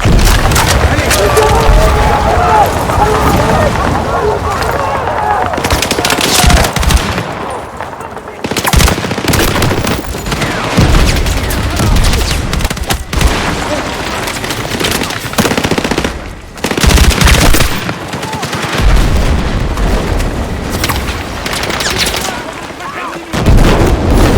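Heavy-caliber gunfire in the Battlefield 6 video game: loud bursts of machine-gun and artillery fire with booming impacts, broken by brief lulls, while voices speak over the combat.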